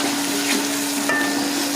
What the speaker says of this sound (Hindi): टमाटरों को भी अच्छी तरह मिक्स करेंगे